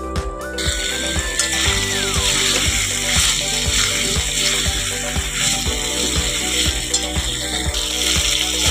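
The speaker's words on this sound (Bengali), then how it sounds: "এবারে ভালো করে কষাবো।" Vegetables with turmeric, chilli powder and salt being sautéed in a pan, giving a loud, steady sizzle under a regular mechanical ticking and a brief tone near the start, with no speech.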